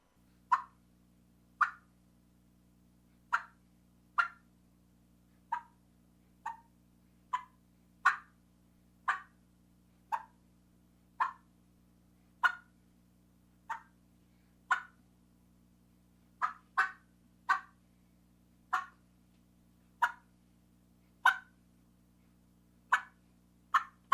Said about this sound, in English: The real hen is a great all-around call and gives great clucks